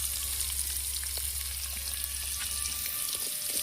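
Two large onions fry in hot oil with cardamom and star anise for a chicken curry, giving a steady, close hiss of sizzling with faint stirring sounds and no voices.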